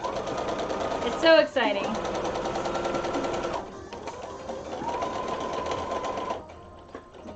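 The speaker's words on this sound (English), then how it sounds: "Oh yeah, so we're sewing on pockets." A sewing machine stitches pockets onto a garment in long, steady whirring runs, with a brief pause between bursts and a voice talking over it.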